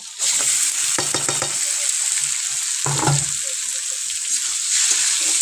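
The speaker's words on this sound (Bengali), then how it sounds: "এর মধ্যে এবার যে ম্যারিনেট করে রেখেছিলাম যে মাংসটা, সেটা দিয়ে দেব।" Marinated mutton hits hot oil in a pan and fries with a loud, close sizzle, broken by the scrape and clatter of stirring for a red curry with potatoes.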